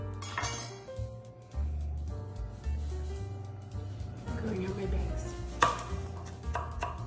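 A knife chops empanada filling on a board in a home kitchen, giving close, uneven thuds with a few light clinks of utensils and dishes between them.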